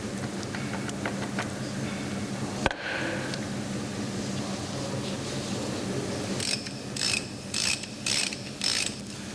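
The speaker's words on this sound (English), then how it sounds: "Remove the Planet Spider fastening screw." Mechanical clicking and ratcheting from work on a Linde H30 forklift transmission while fastening screws are removed. The sound is faint and close, with one sharp knock partway through and a run of rhythmic ratchet bursts near the end.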